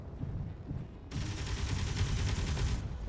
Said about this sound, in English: the Gatling guns are good for taking out turrets if you've got enough of them